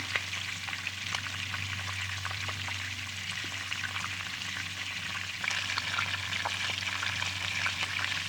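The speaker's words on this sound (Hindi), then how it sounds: "अब इसको मैं अच्छे तरीके से जो है फ्राई कर लूँगी।" Green chillies, carrots, onion and cabbage sizzle steadily in oil for chow mein, a dense continuous fry with a low hum beneath and scattered light crackles and stirring clicks throughout.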